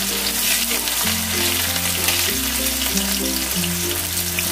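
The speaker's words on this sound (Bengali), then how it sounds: "উচ্ছেগুলোকে একটু ভালো করে ভেজে নেব।" Bitter gourd pieces frying in hot oil in a pan: a loud, continuous crackling sizzle heard up close and alone, with low steady tones running underneath.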